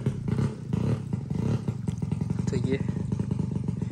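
A motorcycle fitted for spraying pesticide on a peanut field runs with a steady, throbbing engine putter close by, under someone talking.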